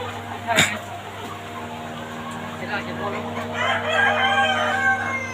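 Chickens at an egg farm cluck steadily with a rooster crowing, loud and close, with voices talking over the flock and farm noise.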